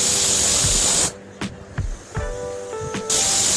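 A pressure cooker cooking sweet daliya on a stove lets out a loud steady hissing whistle, which cuts off for a couple of seconds of quieter clatter and then resumes at full force.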